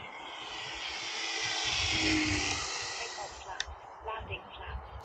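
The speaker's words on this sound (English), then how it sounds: "And this is a really gorgeous low-wing RC airplane." An E-Flite Cirrus SR22T low-wing RC airplane flies past with a steady motor drone that swells to a peak and fades, followed by a few faint clicks and bumps nearby.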